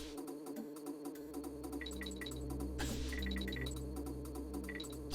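Buzzing bees in the Donkey Kong Country 3 video game, heard as a synthetic insect drone mixed into the game's music, with repeating tonal blips and a steady underlying hum throughout.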